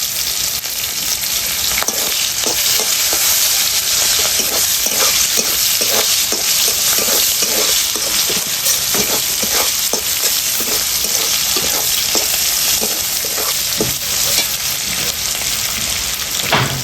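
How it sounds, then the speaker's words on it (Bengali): Green chillies and crushed garlic sizzle loudly in a pan of hot oil, the steady frying hiss broken by regular scraping strokes of a spatula stirring them. "লঙ্কাটা রসুনটা ভাজা ভাজা হয়ে গেছে"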